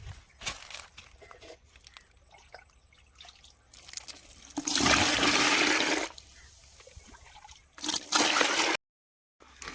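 Mugs of water are poured into a pesticide spray mix for onions damaged by fog. Loud rushing, splashing pours come in two bursts, separated by quieter trickling and dripping, with no talk.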